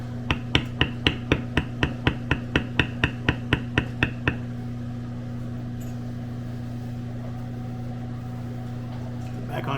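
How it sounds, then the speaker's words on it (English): Metal beveling tool struck by a mallet on a leather scroll while tooling a square coaster: about sixteen quick, crisp taps in a steady rhythm over a low constant hum, then the strikes stop and only the hum remains. "I'm going to bevel the inside of that same scroll there"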